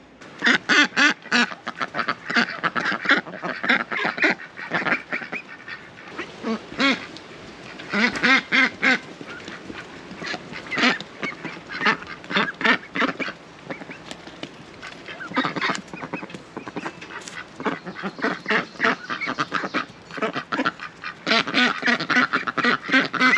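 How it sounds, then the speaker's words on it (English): Hatched ducklings on a small Nova Scotia homestead quack and peep continuously, a dense, overlapping chorus of many birds calling close by, with constant rapid rhythmic bursts. "So these are all the ducklings that we've hatched."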